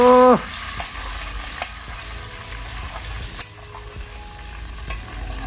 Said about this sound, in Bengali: এবার দিয়ে দিলাম ফোড়ন